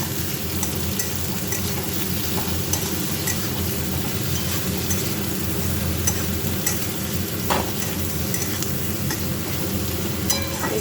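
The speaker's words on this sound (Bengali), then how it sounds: "এগুলো ভাজা হোক।" Ridge gourd and eggplant pieces frying in a pan give a steady, dense sizzle with occasional stirring scrapes, close and continuous throughout.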